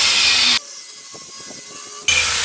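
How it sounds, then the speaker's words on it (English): A cutting disc slices metal while a boat trailer is modified, a loud close high grinding screech that drops out briefly to quieter scraping before starting again. "Don't push too hard with these cutting discs,"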